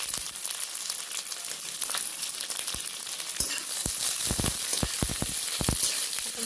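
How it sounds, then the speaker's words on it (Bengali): Two large chopped onions fry in a wok with a continuous crackling sizzle, punctuated by a series of sharp scraping clicks from stirring in the latter half, with no talking. "এই দুটো পেঁয়াজও এবার চলে গেল কড়াইতে।"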